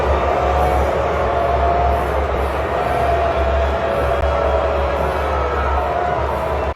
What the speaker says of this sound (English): Here is a video of the crowd booing Taylor Swift.